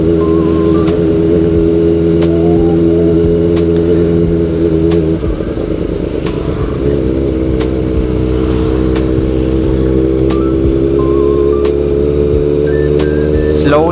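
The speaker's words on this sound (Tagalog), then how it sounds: "Hindi ko lang alam kung ganun din ang tunog ng motor ko sa ibang makakarinig." A Kawasaki ZX-4RR motorcycle engine drones steadily while riding on a rainy day, with a loud, constant whine that swells briefly mid-ride under wind and road noise.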